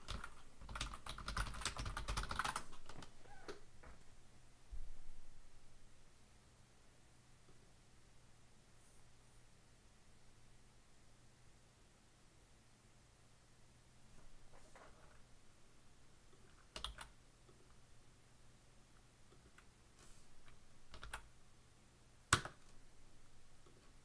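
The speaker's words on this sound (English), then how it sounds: "there is a telepathic keyboard." Typing on a computer keyboard in a quiet room: a dense burst of rapid keystrokes at the start, then scattered isolated clicks and short flurries over a faint steady hum.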